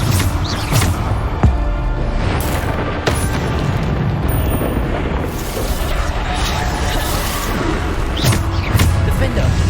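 Bombarda blasting spells explode repeatedly in Hogwarts Legacy, loud booming bursts recurring every couple of seconds amid continuous combat noise and a voice calling out spell names.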